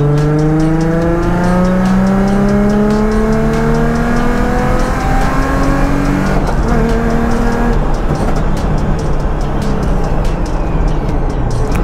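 A procharged Nissan 350Z pulls onto a race track with cold tires, its engine droning and climbing through repeated rising rev sweeps, loud and close throughout with steady road and wind noise.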